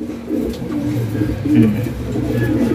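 Breeding pigeons in a loft coo in low, repeated throaty calls close by, with a voice murmuring among them.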